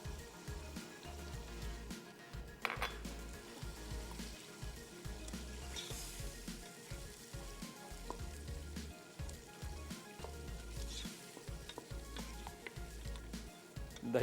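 Whole spices roasting in a hot pan give a steady close sizzle and crackle, with soft stirring scrapes now and then and no talking.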